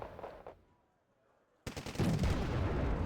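Machine guns open up in a naval battle game with French Marines, a sudden dense burst of rapid rattling fire after a near-silent gap, loud and sustained to the end.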